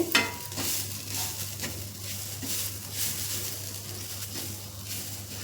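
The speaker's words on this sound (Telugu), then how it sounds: "ఫస్ట్ కొంచెం నెయ్యి వేసుకొని కొబ్బరి వేయించుకుందాం." Grated coconut fries in ghee in a pan for a sweet filling while being stirred, a steady soft sizzle under periodic scraping strokes, close and moderately loud throughout.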